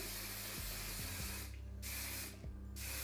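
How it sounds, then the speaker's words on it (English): Hairspray hissing from an aerosol can in two short bursts, each about a second long, with faint clicks from the nozzle between sprays. "I'm just gonna go ahead and like shield my face and start spraying"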